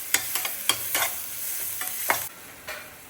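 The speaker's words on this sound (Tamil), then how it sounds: "வெங்காயம், பச்சை மிளகா, பூண்டு மூணும் போட்டு சும்மா ஒரு வதக்கிடுங்க." Onion, green chili and garlic sautéing in a pan, with repeated stirring scrapes and soft frying sizzle in short bursts, close and fairly quiet with no talking.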